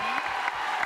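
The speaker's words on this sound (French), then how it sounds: "Applaudissements pour Jacqueline." A French television studio audience claps in a brief burst of applause, a dense wash of hands under a few faint voices, lasting less than a second.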